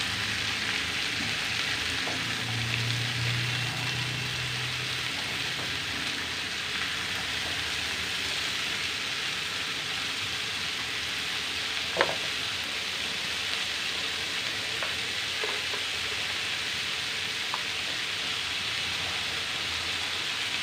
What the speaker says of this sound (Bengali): এখন আমি ভালো করে নেড়ে দেবো, যতক্ষণ নরম না হবে ততক্ষণ আমি নাড়তেই থাকবো